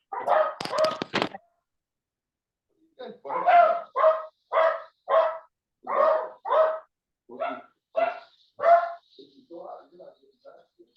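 Dogs bark in a rapid series of close, loud yaps after an opening burst of scuffling noise, the barks coming in quick pairs before tapering off.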